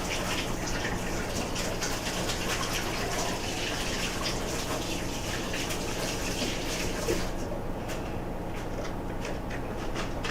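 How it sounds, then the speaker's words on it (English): Tap water gushes continuously into a sink during handwashing in a home kitchen, a steady close rushing that thins slightly toward the end. "I gotta wash my hands here."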